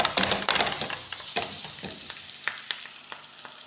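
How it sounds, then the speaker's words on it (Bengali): Dates heating in Dalda vegetable ghee in a pan, a close sizzle broken by scraping stir strokes that come irregularly and fade gradually toward the end. "খেজুর একটু গরম হতে এখন একটু ডালডা দিলাম। ডালডা দিয়ে কিছুক্ষণ লাড়বো, গরম করবো,"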